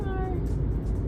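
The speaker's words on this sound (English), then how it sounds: "There are so many cats in this house." A cat in a house gives one short meow at the start, fairly clear and close, over a steady bed of low indoor noise.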